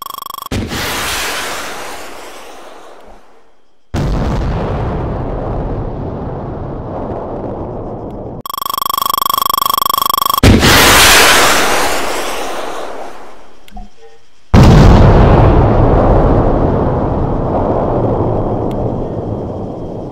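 Armor-piercing rounds fired from a weapon in the video game Arma 3: a series of heavy, booming shots, each a loud broadband blast trailing into a long rumbling decay, with one sharp tonal whine between blasts.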